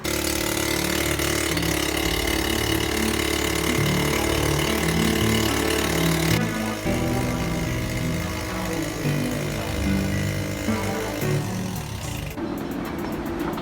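Sailboat outboard engine running steadily after a full service, a loud continuous mechanical drone with a shift in pitch midway as the throttle changes, heard alone without talk.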